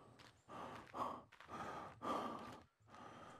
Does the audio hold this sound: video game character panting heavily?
yes